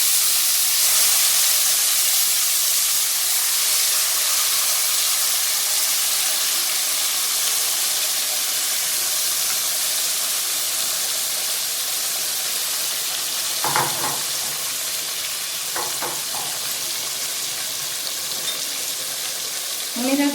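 Chicken pieces frying and sizzling in a pan for a coriander chicken dish cooked without water, a steady broadband hiss throughout with a few brief clatters of stirring near the end.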